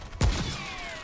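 A single loud, booming revolver gunshot in the video game Remnant: From the Ashes cracks out and then rings and decays over the next second, with a faint tone trailing off.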